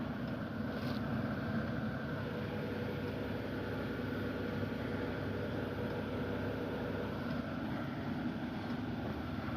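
Cooling fan running on a BMW 328i sport wagon with a faulty pump, a constant steady whir and hum at low level with no change in pitch, heard alone.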